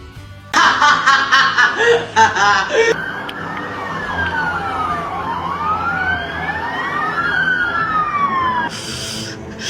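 A police siren wails loudly and nearby in a comedy sketch, rising and falling in repeated sweeps for several seconds, after a burst of loud laughter and commotion at the start.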